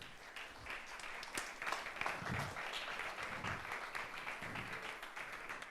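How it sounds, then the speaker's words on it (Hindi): Applause from a church congregation during an Easter sermon fills the space steadily, a broad, moderately loud wash of clapping that holds through with little variation. "इसलिए अपने लिए जोरदार तालियां बजा दें।"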